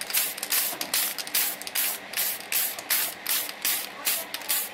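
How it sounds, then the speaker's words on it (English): Spray paint hisses onto a 1:1000 Enterprise Refit model kit in short, steady pulses, a fine broadband spritz repeating about once every half second, close to the microphone. "So I guess I can just continue spraying this thing."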